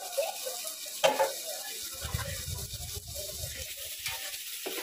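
Tomatoes frying in a pan for chicken curry give a soft, steady sizzle with occasional stirring scrapes and a brief clatter, heard faintly and close with no voices.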